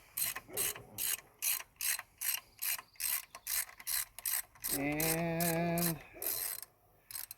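A 3/8 wrench ratchets a reverse-threaded stud remover on a Mercruiser 2.5 intake, giving a steady run of evenly spaced clicking strokes, close and clear, with one longer whining pull near the end.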